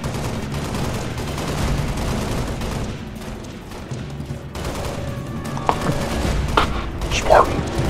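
Gunfire in the Halo Reach video game: rapid, continuous bursts of weapon fire with booming thumps, under urgent shouting voices and a dense battle din.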